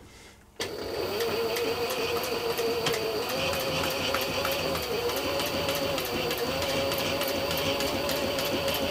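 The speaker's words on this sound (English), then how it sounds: "So I'm just sewing two little silver dots that I can see." A sewing machine stitches a chisel tool roll. After a brief quiet moment it starts abruptly and runs in a fast, steady, continuous whirr that stays close and even throughout.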